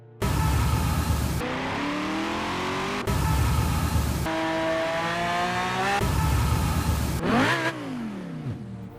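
A car engine in Grand Theft Auto screams through repeated high revs, rising in pitch with each gear, then cutting out between shifts; loud and close.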